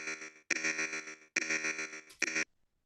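A vocal gated by an auto pan in a triplet groove comes through as a buzzy, chopped tone in three rhythmic bursts and a short final stab, each cutting off abruptly with silence between.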